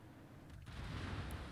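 Battleship main guns open fire in a naval video game, a deep booming roar that swells and rumbles on steadily after a brief quieter moment.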